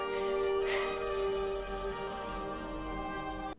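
An old-style telephone bell rings continuously, a bright sustained metallic trill that holds steady for a few seconds before cutting off.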